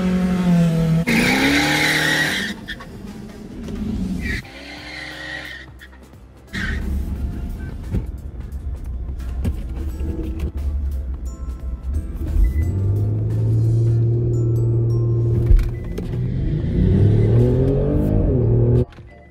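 A 1984 Chevy Camaro with a cammed 305 V8 and modified exhaust races a Kia Stinger GT down a quarter-mile drag strip, with loud engine revving, tire squeal and accelerating runs, broken by short gaps and voices.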